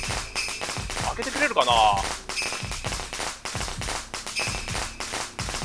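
A thrown firecracker in the horror game Shadow Corridor sets off a rapid series of sharp crackling pops. Someone talks over the bursts.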